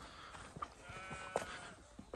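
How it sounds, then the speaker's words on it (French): A few short sheep bleats at a distance at Dunmore Head, Ireland, faint and scattered over quiet outdoor background. "On peut entendre les moutons bêler."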